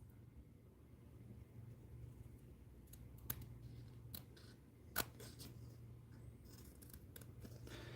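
Scissors snip in a handful of sharp, quiet cuts, irregularly spaced against a faint steady hum in a quiet room.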